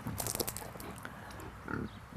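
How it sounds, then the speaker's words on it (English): A farm pig pushes a paddle waterer to drink, heard as a few close snorts, clunks and splashy rattles in a quick opening burst, then a softer grunt near the end, with no talk. "Those pigs know that's their water from day one, even as babies."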